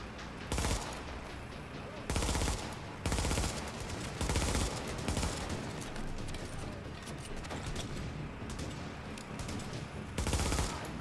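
Bursts of rapid gunfire from the video game The Division, loud and dense, coming in repeated volleys over a constant backdrop of game noise.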